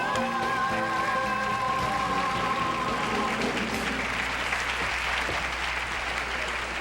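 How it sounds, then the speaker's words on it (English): Steady, full studio audience applause fills the air at a 1975 television game show, loud and sustained throughout, with a held musical tone underneath at the start. "give ourselves a round of applause"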